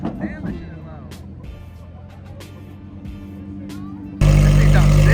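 Car engine at a street car meet, heard first as a quieter idle under people talking, then a sudden very loud sustained roar from the engine in the final second.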